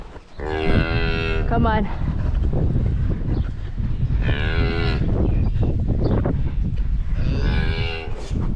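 Cattle on a farm, a cow and her small calf, mooing in several long, loud calls close by, with wind noise in between and a person briefly speaking.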